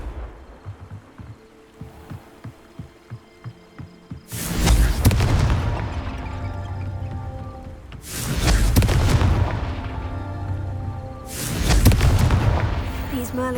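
Confringo blasting spell explosions in Hogwarts Legacy, three heavy booming blasts that each roar and slowly decay, preceded by a softer, rhythmic patter of footsteps.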